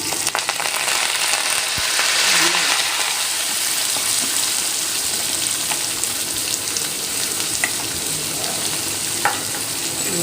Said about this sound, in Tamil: கடுகு பொரிய ஆரம்பிச்சிச்சு கருவேப்பிலை போட்டோம்னா